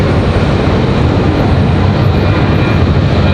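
An airliner at Raleigh-Durham airport with a United jet on the runway, a loud, steady broadband engine roar filling the whole stretch, continuous without breaks, with no talking.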